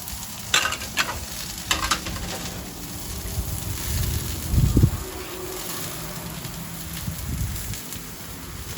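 Mushrooms and zucchini sizzle on a Blackstone griddle, a close steady frying hiss with spatula scrapes and taps as the vegetables are moved around, and a low clatter midway.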